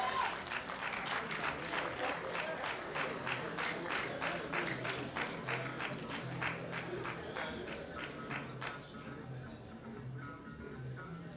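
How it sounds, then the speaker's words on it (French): An audience applauds award winners at the Nuit des lompolo 2025 ceremony, crisp individual claps in a busy, steady stream that thins and fades toward the end. "Il y en a qui applaudissent même quand le trophée est déjà remis."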